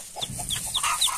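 A hen clucks close by, a quick series of short, throaty clucks at a steady pace, with faint chick peeps mixed in.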